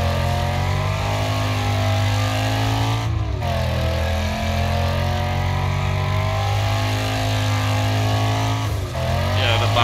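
A race car engine in the video game Wreckfest holds a loud, sustained high-RPM whine through corners, dipping briefly and climbing again as it shifts, with a player talking over it.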